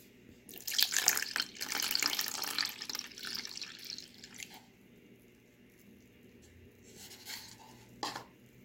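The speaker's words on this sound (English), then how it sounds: "Then I'm going to put the water." Water pours into a homemade gesso mixture in a loud splashing stream for several seconds, then drops to softer trickles and a last splash, with no voices.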